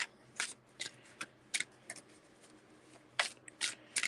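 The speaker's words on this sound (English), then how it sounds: "Because these cards don't really want to shuffle" Cards being shuffled in several quick, crisp bursts of riffling and tapping, fairly quiet and close, with pauses between.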